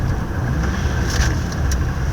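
Venturi 400 Trophy race car driving on a track, heard as a steady engine drone with wind rush from inside the cabin and a few faint higher ticks, no one talking.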